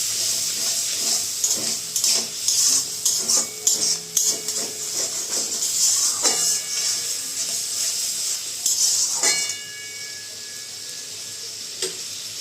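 Spice masala sizzles and fries in a pan as yogurt is added and stirred in, with a steady frying hiss, repeated spoon scrapes and clinks against the pan, and the sizzle easing toward the end.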